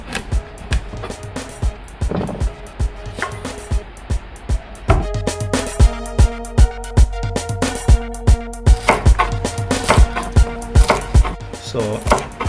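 Knife chopping thyme on a cutting board for Jamaican baked fish seasoning, a steady run of sharp close knocks that grows quicker and denser in the second half, with faint background noise and no talk.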